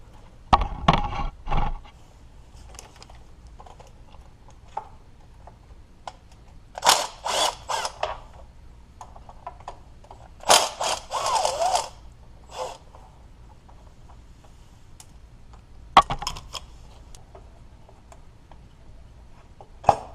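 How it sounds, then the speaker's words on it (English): A hand ratchet backs bolts out of the front timing belt cover on a Toyota/Lexus V6, with quick bursts of close, crisp clicking separated by quieter pauses and faint handling noises. "now we can get to the other bolts for the front cover here. We can remove those and remove the lower front cover"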